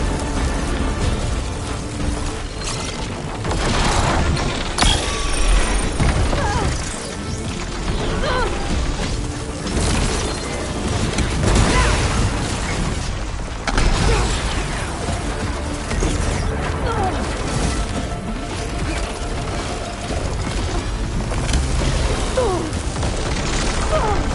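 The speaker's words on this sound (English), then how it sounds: "It's gonna explode any second." An explosion erupts amid busy combat in Horizon Forbidden West. Repeated heavy booms, crashes and mechanical clatter swell and fade over a dense, continuous battle din.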